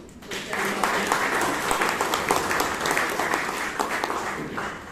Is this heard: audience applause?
yes